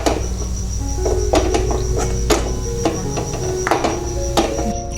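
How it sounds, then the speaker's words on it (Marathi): Boiled potatoes mashed in a steel pot or bowl for a potato filling: repeated irregular clanks and thuds of a masher hitting the vessel, close and fairly loud, over a steady background hum, with no talking. "आपण बटाटे थोडे मॅश करून घेऊया या पद्धतीने बटाटे बारीक करून घ्यायचे आहेत"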